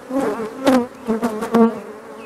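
Honeybees from an aggressive hive buzz close by in uneven bursts, their drone swelling and fading several times as they fly around a beekeeper working brood frames.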